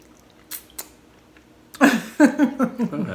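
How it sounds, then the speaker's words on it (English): Raw honeycomb wax being chewed with lemon, a few soft sticky squishes near the mouth at first, then a run of close, loud, wet chewing and smacking bursts in steady rhythm, with no one speaking. "I'm chewing the wax and it's kind of sticking here."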